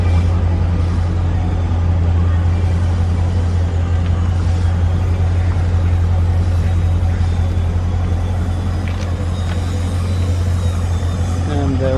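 A car being driven around the block to settle its tire pressures, with a steady low road and engine drone throughout and faint brief clicks over it.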